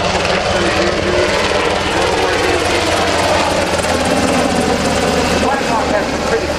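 UH-60 Blackhawk helicopters, A and L models, passing at an Air National Guard open house, a loud broadband rotor and turbine roar that holds steady throughout.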